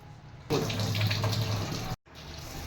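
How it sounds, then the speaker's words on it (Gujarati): Rice for a vegetable dum biryani is rinsed by hand in water, giving a steady swishing, splashing wash. It stops briefly near the end and then resumes, with no talk. "હવે એને 2-3 પાણીમાં આપણે વોશ કરી લેવાના છે સારી રીતે."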